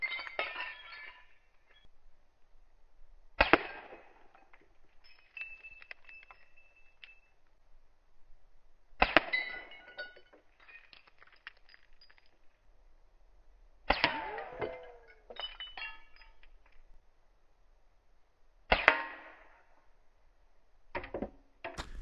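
Air rifle pellets striking glass bottles set up at 50 metres, producing four or five sharp, bright clinks and shattering cracks spaced several seconds apart, heard from a distance against a quiet outdoor background.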